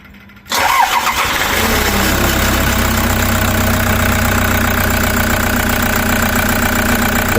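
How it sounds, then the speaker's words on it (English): A car engine starts after an EGR inlet manifold cleaning, cranking briefly and catching at once before settling into a steady, loud idle that runs evenly to the end without any voices. "engine actually sounds a lot smoother, stronger"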